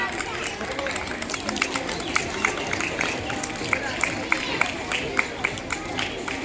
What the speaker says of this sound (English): May we have a big round of applause for her.